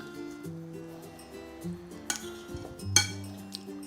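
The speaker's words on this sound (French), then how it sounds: "Je vais bien mélanger le tout." A utensil stirs roasted vegetables with basil and onion in a pan, giving a few faint scrapes and clinks, including a sharper clink near the end, over soft background music, close and quiet.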